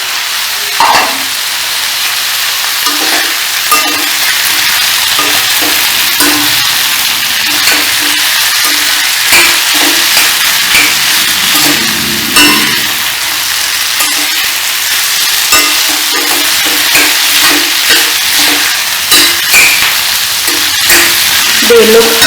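Green tomatoes fry in a pan for an Andhra-style chutney, giving a steady bright sizzle throughout with scattered pops and crackles and faint stirring noises, with no voices.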